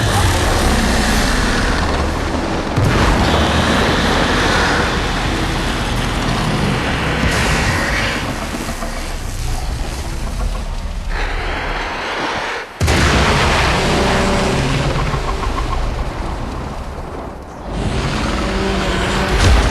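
Explosions in the video game Warframe roar loudly and continuously, with heavy booming blasts and rumbling debris that rise and fall through the stretch and cut off sharply midway before resuming.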